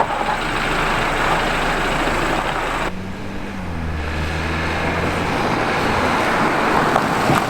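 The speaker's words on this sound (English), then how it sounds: "for supposedly needing an engine, I think this thing sounds pretty freaking fantastic. These N20s and N26s sound like a diesel engine from new" A BMW N20 four-cylinder engine idles after a timing chain repair, giving a steady, diesel-like drone with a brief dip in pitch partway through. No one speaks over it.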